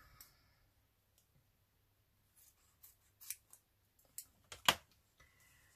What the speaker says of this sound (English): Might cut another piece off.